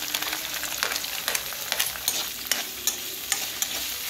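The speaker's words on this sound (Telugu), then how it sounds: "ముందుగా కలిపి పెట్టుకున్న ఆనియన్స్ వేసుకోవాలి." Onions sizzle in a pan for bendakaaya (okra) curry, with a steady frying hiss and light, irregular scrapes of stirring, close and fairly quiet, with no talk.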